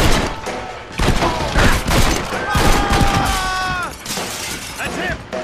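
Rapid gunfire in Red Dead Redemption during a chaotic scene around a shipwreck: loud bursts of shots and shattering impacts, with ringing metallic tones and someone talking underneath.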